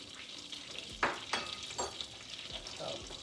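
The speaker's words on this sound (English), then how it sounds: "So shake off the excess and lay it in the pan." Cod tongues pan-frying in a pan: a steady low sizzle with a few sharper crackles and spits as pieces are laid into the hot fat, fairly close and alone without talk.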